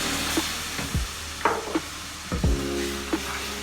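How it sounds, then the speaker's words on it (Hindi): Milk is stirred quickly into a butter and flour base for a chicken lasagna sauce, a soft sizzle under several sharp scraping strokes of a spoon against the pan, close and without voices. "हमने इसको जल्दी जल्दी मिक्स करते जाना है ताकि इसमें गुठलियाँ ना बने।"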